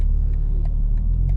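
A 600hp BMW M4 Competition at operating temperature pulls under load, a loud, steady low engine rumble heard from inside the car for a brief moment.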